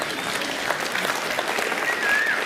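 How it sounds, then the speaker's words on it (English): Audience clapping throughout a symposium hall, a steady, dense wash of applause at moderate distance with no break. "you can clap if you want, go ahead."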